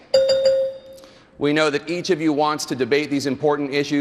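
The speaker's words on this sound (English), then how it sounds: "a bell will also sound like this" A debate timing bell chimes at a presidential debate, two quick strikes ringing out and decaying for about a second before a moderator begins speaking over the hall.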